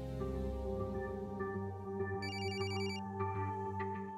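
A telephone ringtone chimes briefly and faintly over a steady background music bed, with a short repeated electronic ring pattern in the middle and no talk.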